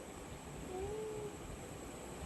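A cat gives a single faint, drawn-out meow lasting under a second, set against a steady background hiss in an indoor setting.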